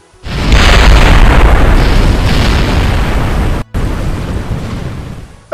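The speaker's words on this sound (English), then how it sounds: "Perhaps an explosion." A loud, rumbling explosion roars for several seconds, cuts out for an instant, then keeps rolling on as a heavy, fading boom.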